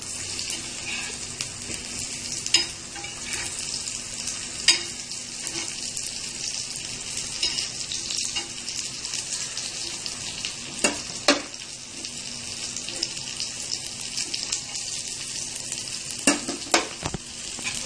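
Arvi and potato cutlets coated in semolina frying in a pan, a steady crackling sizzle broken by sharp scraping stirs and clacks of a utensil against the pan, close up and without talk.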